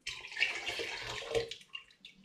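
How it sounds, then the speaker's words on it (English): Spring water pours briefly into a fermenter of blackberry cider, a close, splashy gush lasting about a second and a half before tapering into a few faint drips. "And I'm just going to give it a tiny bit more spring water."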